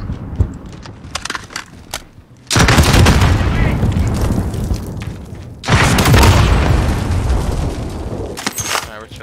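A frag grenade explodes in the Warzone video game, two heavy booming blasts a few seconds apart, loud and close with rumbling decay, after scattered lighter gunfire.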